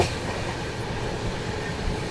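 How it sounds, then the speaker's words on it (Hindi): Indoors on a moving train, the Visakhapatnam–Bhagat Ki Kothi Express passes on the adjacent line as a loud, steady rumble of rolling wheels and coach noise with no voices. "यहाँ पे अपनी क्रॉसिंग हुई है विशाखापट्टनम भगत की कोठी एक्सप्रेस"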